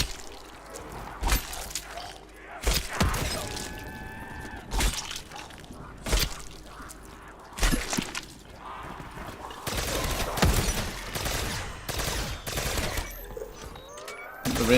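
A Ray Gun Mark II fires repeatedly in Call of Duty Zombies on the Nacht Der Untoten map at round 50, a series of sharp bursts at irregular intervals over a busy background of zombie noise and splatter.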